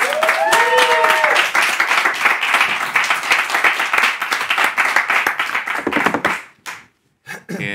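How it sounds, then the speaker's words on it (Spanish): Audience claps for a guest on a comedy karaoke talk show, a dense burst of close hand clapping with a brief whoop at the start, thinning to scattered claps before stopping. "un aplauso para David Pareja"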